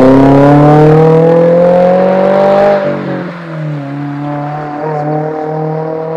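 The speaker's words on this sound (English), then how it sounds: "Most muffler deletes do sound identical." Car exhaust with a muffler delete revving loud and close, a raspy engine note climbing in pitch, then dropping sharply and settling into a rumbling idle.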